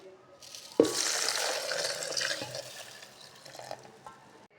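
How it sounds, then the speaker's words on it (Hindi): Milk poured into a jug already holding bananas and sugar: a steady, close, splashy pour that starts abruptly and runs for several seconds before tapering off. "अब इसके अंदर जाएगा दूध"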